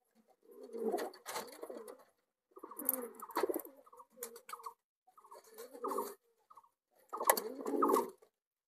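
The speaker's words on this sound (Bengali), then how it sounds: "আমাদের নতুন নতুন পায়রা দুটো খুব সুন্দর খাচ্ছে" Two new pigeons coo softly in four separate bursts with quiet pauses between, close by and with no voices.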